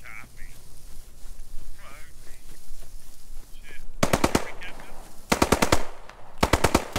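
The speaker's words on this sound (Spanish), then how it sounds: "Creo que este tío está disparando a los nuestros." Machine gun fire in the WWII shooter Post Scriptum: faint distant shots and talk at first, then sharp, close, rapid bursts of automatic fire in several volleys over the final three seconds.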